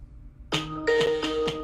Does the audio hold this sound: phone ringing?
yes